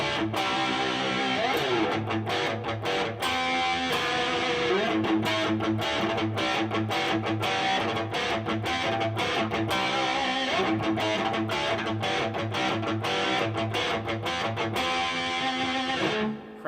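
Electric guitar from a modded Squier Bullet Special played through a Mooer Diezel Hagen preamp pedal, giving a loud, driven 80s-style tone with rhythmic chugging chords and sharp muted stabs throughout, no talking.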